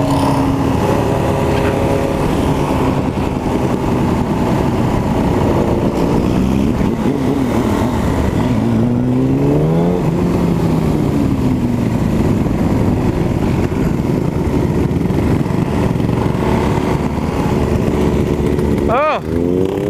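A motorcycle engine revs loudly and steadily close by during a group memorial ride, its pitch rising and falling through throttle changes, with people talking over it.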